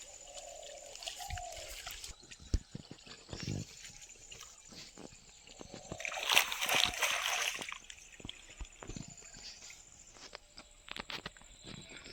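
Water sloshing and splashing as someone bails out a pond to catch fish in the Sundarbans, with irregular near trickles, splashes and footsteps and a louder burst of splashing midway.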